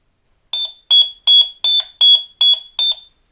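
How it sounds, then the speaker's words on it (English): A continuity tester beeps through a chip on a Commodore 64 cartridge: a rapid, even run of seven shrill electronic beeps, loud and close, each a short burst with a piercing high tone and brief gaps between. "the Testophone is a continuity tester that emits different sounds depending on the path"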